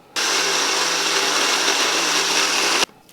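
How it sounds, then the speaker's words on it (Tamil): A mixer grinder whirs loud and steady for almost three seconds, grinding flattened rice finely for murukku, starting abruptly and cutting off sharply, with no voices. "இது ரெண்டும் வந்து சேர்த்துட்டு நல்லா நைஸாக அரைச்சி எடுத்துக்கலாம்"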